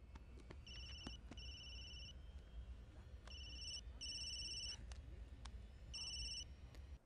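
A mobile phone rings in a movie, its electronic ringtone sounding in three bursts of repeated beeping tones over a steady low background hum, quiet and without talk.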